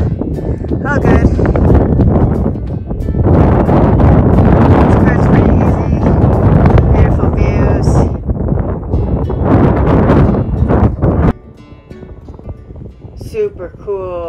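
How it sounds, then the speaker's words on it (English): Strong wind roars and buffets the microphone continuously, loud and close, then drops suddenly near the end as a voice speaks. "Pretty windy out today."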